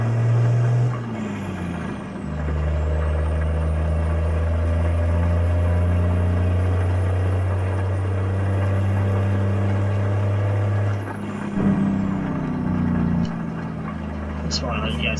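A heavy semi-truck in American Truck Simulator drones with a low engine hum and engine-brake blat. The loud, steady note dips and shifts a few times as the truck slows and gears change.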